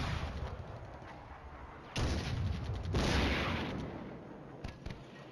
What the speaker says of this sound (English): And the mortars fall again.